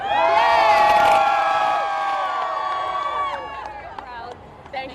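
A crowd at the Pride Houston parade cheers and whoops loudly, many high voices shouting together at full volume before slowly fading into scattered calls and chatter.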